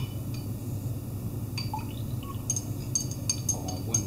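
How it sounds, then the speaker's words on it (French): Silver nitrate solution being added in small doses to a mixture in laboratory glassware, with faint drips and light glassy clinks over a low steady background hum. "On ajoute le nitrate d'argent, donc 30 ml,"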